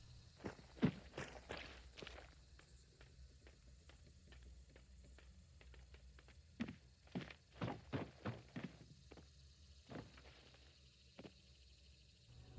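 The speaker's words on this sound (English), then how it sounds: "Notice how unbelievably quiet you are dropping from heights onto wood and climbing ladders" Soft, quiet footsteps of a player character with the Lightfoot trait in the game Hunt: Showdown, moving over wood and ladders; light thuds and taps come in scattered clusters, with a few louder landings, against a low ambient hum.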